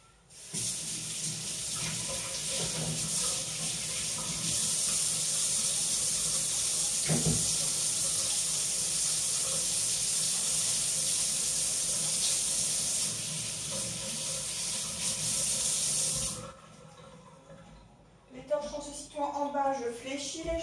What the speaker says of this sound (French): Du coup, je me lave les mains.